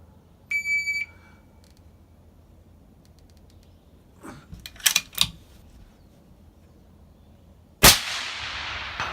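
An Accuracy International rifle fires at steel targets at 300 to 500 yards, one sharp, loud, close report ringing into a long echoing tail, with an electronic timer beep at the start and a few clicks and rustles before the shot.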